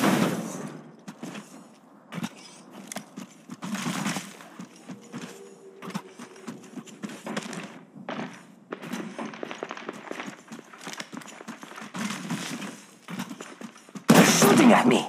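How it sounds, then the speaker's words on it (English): Gunfire from the video game Apex Legends Mobile rattles in repeated sharp bursts and clicks throughout, mixed with game effects and a voice talking over it. "They're shooting at me!"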